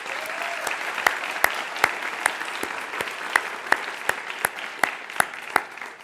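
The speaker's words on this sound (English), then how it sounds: "join me in a big round of applause to all these young," An audience at the World Bank Youth Summit 2018 breaks into sustained applause, a continuous patter of many hands punctuated by sharp, regular louder claps standing out close by.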